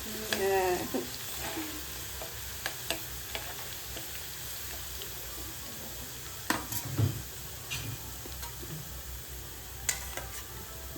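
Ginger and garlic frying in a pan, a steady low sizzle with occasional ticks and stirring clinks, fairly faint, with a little background voice.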